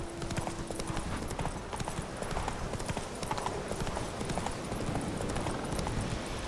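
Steady clip-clop of Roach's hooves from The Witcher 3, a brisk continuous trot over ground under a busy layer of ambient game noise, fairly close and even in level throughout.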